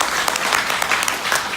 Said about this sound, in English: Please give Peter Perini a round of applause.